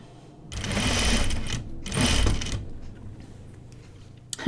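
Sewing machine stitching a tunic yoke in two short bursts of rapid needle chatter separated by a pause, close and moderately loud, followed by quiet mechanical handling and a small click at the end.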